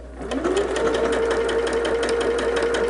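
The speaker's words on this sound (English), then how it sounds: "I'm just going to sew straight down that one side." A sewing machine stitches a seam on a quilt block, its motor whirring in a steady rapid needle rhythm for a few seconds, close and alone without speech.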